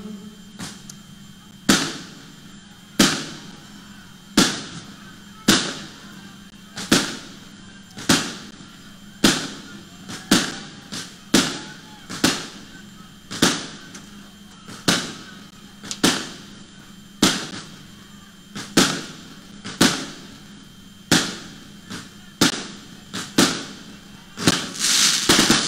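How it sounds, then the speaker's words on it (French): A long series of sharp fireworks bursts booming one after another at a steady pace, each blast trailing off into a brief echo. "Voilà, des feux d'artifice pour vous accueillir, monsieur."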